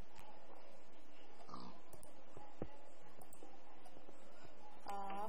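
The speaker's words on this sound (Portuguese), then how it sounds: "Ah, porco." A pig oinks faintly in a few short grunts over a quiet background hum, with a brief murmur of a voice.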